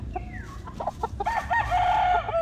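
Gamefowl chickens on a farm, golden boy bloodline birds, cluck in short bursts while a rooster's crow rises and holds near the end, close and lively, with no talk.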